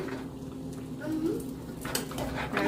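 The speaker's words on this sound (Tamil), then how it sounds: "மூடியை போட்டு மூடி விடலாம்." A metal lid set onto a cooking pot of chicken and potatoes in a home kitchen, a short clattering knock of metal on metal near the end, heard close over low kitchen background.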